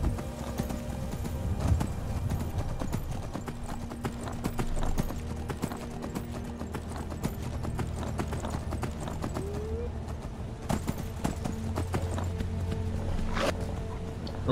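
Steady clip-clop of an armored horse's hooves in the video game Skyrim runs through the whole stretch as a dense rhythmic patter, with game ambience and music underneath and someone talking at times.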